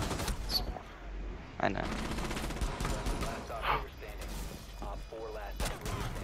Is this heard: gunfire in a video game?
yes